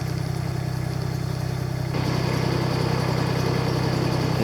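Tractor engine idling steadily on a graded, compacted steep driveway in the New Hampshire White Mountains, a constant low rumble that grows a bit louder partway through, no talk.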